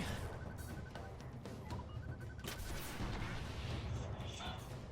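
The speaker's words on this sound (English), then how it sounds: "Just gonna go ahead and finish him with a couple rockets here." Rocket fire in the video game Destiny, with deep booming blasts and crackling explosions layered in a dense, loud game soundscape over a steady low rumble, beeping tones and a voice talking.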